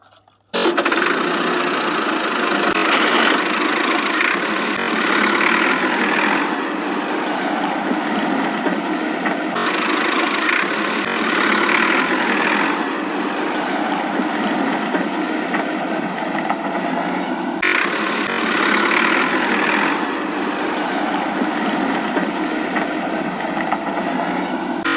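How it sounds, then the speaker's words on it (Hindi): A John Deere tractor engine runs steadily and loudly for the whole stretch after a brief start, a continuous mechanical drone with no talk over it. "अब हम लेके चलेंगे जॉन डियर ट्रैक्टर।"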